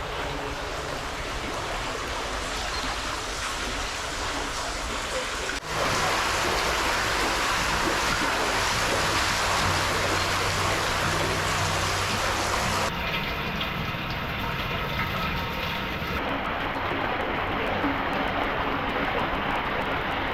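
Two small side brooks pour into Wince Brook, a lesser-known Manchester waterway, making a continuous loud rushing, gushing flow of water that shifts in character partway through and carries on with no voices.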